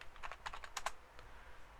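Keyboard keys pressed for a Ctrl+C copy shortcut while working in an Excel spreadsheet, a quick cluster of several close, crisp clicks over about a second, with no talk.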